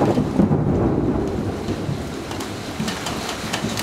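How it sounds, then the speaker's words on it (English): Thunder rumbles through a rainstorm, a heavy rolling boom over steady rain hiss, loud and sustained before easing slightly toward the end. "And thunder."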